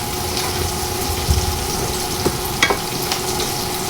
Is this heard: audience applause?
no